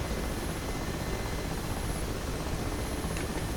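Mi-8 transport helicopter in the flight simulator game DCS, a loud, constant rotor and turbine roar flying fast, with no voices.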